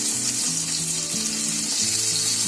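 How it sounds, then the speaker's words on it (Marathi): Fish head pieces fry in hot oil with a dense, loud, steady sizzle, close up, and a low hum repeating in the background, with no voices. "ते डोकं तुकडे आहे ना आपल्याला फ्राय करून घ्यायचे आहे."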